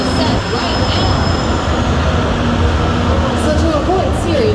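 A Universal Studios tour tram rolls along with a steady, loud rumble and rattling road noise, accompanied by faint whining tones, continuous and close throughout the ride.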